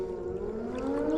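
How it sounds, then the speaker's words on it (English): A civil-defense-style siren wails across the water near a lake, a steady tonal drone slowly rising in pitch, heard alone at moderate distance. "I'm not even sure what those sirens are"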